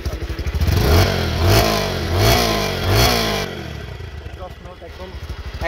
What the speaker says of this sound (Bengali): সেলফ স্টার্ট, একবারেই স্টার্ট হয়ে যায়